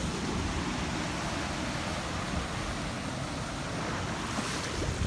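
Floodwater after heavy rainfall rushes down a residential side street in Pierrefonds, Montreal, like a river, a steady broadband wash of water close to the microphone with some wind buffeting throughout.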